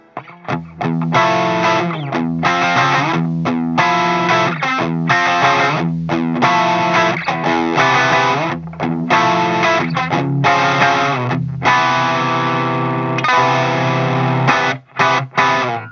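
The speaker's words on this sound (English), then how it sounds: "I don't want to call it edge of breakup, but just slightly overdriven sound" An electric guitar runs through a Tube Screamer overdrive pedal, set to mild drive, into a Crate Blue Voodoo amp. It plays a continuous, loud run of slightly overdriven chords and notes with short gaps, alone and without talk.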